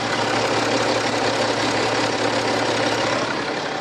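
An inline six-cylinder diesel engine in a premium coupe SUV idles with a steady, close, even rumble and no voices over it.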